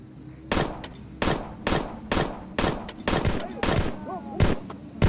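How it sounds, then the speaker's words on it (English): Rapid bursts of gunfire from the survival video game Plains of Pain, about eight sharp, loud shots spaced roughly half a second apart over a steady low ambient hum. "Shooting at me or the low lives."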